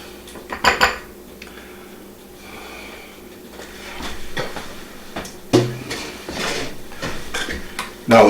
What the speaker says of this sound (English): Now let's mix this together.